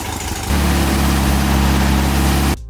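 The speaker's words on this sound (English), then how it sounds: "At this point we're about ready to fire up the Beetle for the first time" A Volkswagen Beetle, fitted with new spark plugs and retimed, cranks briefly and then catches into a loud, steady idle close by, running for about two seconds before cutting off.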